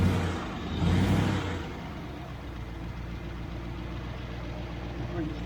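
A Triumph Stag engine with Stromberg CD175 carburettors idles at a steady low rumble, a brief louder swell near the start, with the motor holding an even, continuous note throughout.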